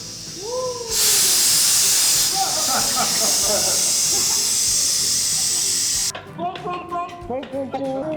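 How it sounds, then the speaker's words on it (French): Compressed air hissing loudly out of a model submarine's ballast tanks in one sustained burst of several seconds, then cutting off abruptly, with voices and a whistle-like tone before and splashy clatter after. "quand le sous-marin veut monter à la surface, il libère cet air"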